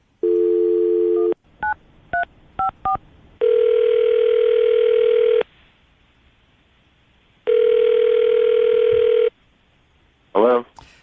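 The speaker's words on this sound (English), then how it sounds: "Kaylee, we're going to call him right now, see if we can get him on the phone" A radio-show telephone call being placed: a steady dial tone, a quick run of keypad dialing beeps, then two long ringback tones separated by silence, ending with a brief chirp as the line connects.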